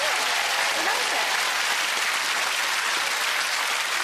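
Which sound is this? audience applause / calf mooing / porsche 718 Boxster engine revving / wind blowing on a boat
audience applause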